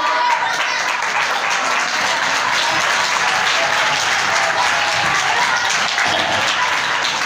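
Secondary-school students applauding together in a classroom, dense steady clapping that stays loud and even from start to finish without a break.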